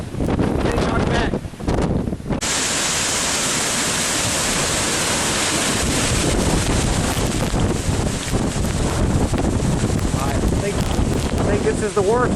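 Hurricane Hermine at St. Marks, Florida: loud gusting wind buffets the microphone over surging, rushing water in a continuous heavy roar, with a brief lull early on and voices now and then.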